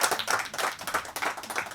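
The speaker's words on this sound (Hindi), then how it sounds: "जोरदार तालियां हो जाएं" An audience at a song launch claps in a quick burst of applause, with moderately loud, uneven rhythmic hand claps and no talking.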